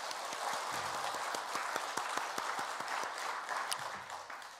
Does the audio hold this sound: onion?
no